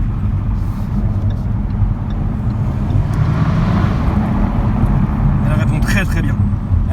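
Jaguar F-Type SVR, a new car with 1500 km on it, roars loudly with a steady, dense engine note throughout, swelling slightly toward the end, while someone talks excitedly over it.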